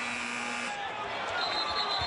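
A shot clock buzzer sounds at a Kansas versus Kansas State college basketball game: a steady electronic tone for under a second, under ongoing commentary and arena crowd noise.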